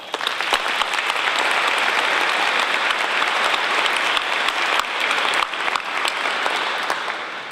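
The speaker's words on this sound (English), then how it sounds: "Let's give them another round of applause." Sustained applause from a large breakfast crowd at an air show gathering, dense steady clapping lasting the whole stretch with a slight fade near the end, no voices standing out.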